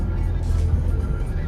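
A car passes close by near a beach at Dahanu, a steady low engine and road rumble swelling briefly, with faint voices in the background.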